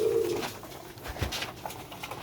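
Sialkoti pigeons cooing at close range, with a low coo at the start and another softer one near the middle against faint background noise.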